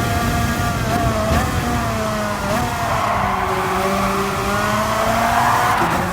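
A 125 shifter kart in the video game Gran Turismo Sport screeches with sustained tire squeal as it oversteers and skids, the engine whining steadily beneath the loud, continuous slide.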